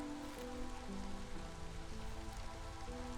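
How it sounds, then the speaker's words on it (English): Drizzle in the video game Against the Storm: soft, steady patter of light rain on surfaces, faint and continuous, with quiet sustained tones of background music underneath. "Okay, we're in drizzle now,"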